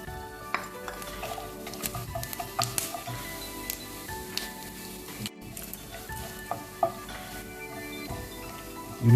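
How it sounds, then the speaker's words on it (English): Spices sizzling in hot mustard oil in a pan for a chilli pepper crab, a steady frying hiss with intermittent scrapes and clinks of stirring against the pan. "You need to fry little until you get the smell, the spicy smell."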